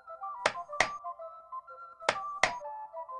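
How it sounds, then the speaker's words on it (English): Shoemaking at a market in the Pilgrim adventure game: sharp hammer thunks strike in two pairs, crisp and close, over a soft sustained musical tone. "let's enjoy the soothing sounds of shoemaking"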